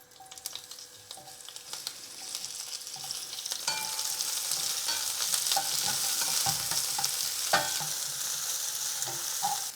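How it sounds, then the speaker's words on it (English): Onions sizzling and crackling in olive oil in a hot pan, a steady bed of frying with scattered pops and occasional stirring scrapes, close and without speech. "cook the onions until they are nicely golden and caramelized"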